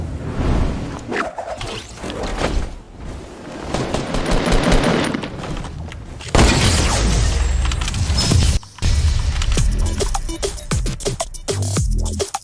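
Rapid automatic gunfire and explosions fill a Call of Duty battle royale match, dense and loud bursts stacking over a continuous chaotic mix, with a short break near the end.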